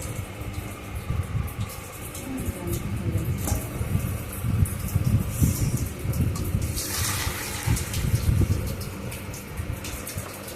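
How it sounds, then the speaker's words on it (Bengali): Live featherback fish, freshly brought from the market, splash and thrash in a container of water, a continuous close watery sloshing with a burst of stronger splashing partway through and no voices. "জ্যান্ত ফলই একদম জ্যান্ত, বাজার থেকে নিয়ে আসলাম। দেখো লাফা লাফা।"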